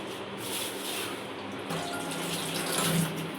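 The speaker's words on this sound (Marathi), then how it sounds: "यामध्ये तांब्यावर असं पाणी ओतून मस्त अशी बघा आपल्याला भिजत ठेवायचे" Water poured from a pot over prawns set to soak, a steady splashing pour running throughout, close and fairly loud, swelling slightly near the end.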